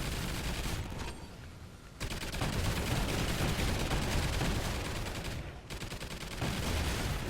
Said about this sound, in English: I can hear all those scorpions behind me, they're getting blasted.